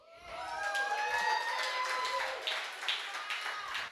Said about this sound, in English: I want y'all to be very careful clapping for me